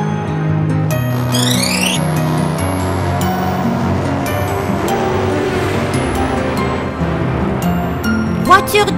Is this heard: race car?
yes